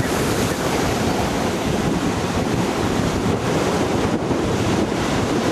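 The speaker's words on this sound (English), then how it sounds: "and the surf's up." Surf rolls in at a very windy beach at 42 Mile Crossing on the Coorong, a loud continuous roar of breaking waves mixed with heavy wind buffeting the microphone.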